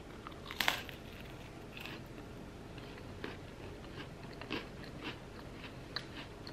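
Parmesan garlic Good Thins cracker bitten close to the mic: one sharp crunch early on, followed by softer, intermittent chewing crunches in a quiet room.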